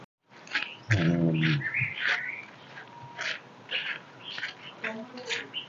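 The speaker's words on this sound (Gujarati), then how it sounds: "સુંદર મજાનો પંખીડાઓ જો અહીંયા પંખીડાઓ ચણે છે" Small birds chirp and tweet in scattered short calls around a quiet ashram courtyard where they feed, with a brief low voice-like sound early on.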